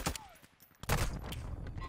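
Incendiary-round gunfire in a Call of Duty match, with several sharp bursts of shots that are loudest near the start and again near the middle, followed by a denser rattling stretch of game noise.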